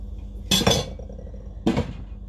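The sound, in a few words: lid being put back on a cooking pot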